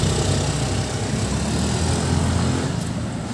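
A Honda Click 125 Version 3 scooter engine runs at a steady idle, a continuous close buzzing hum with no break and no talk.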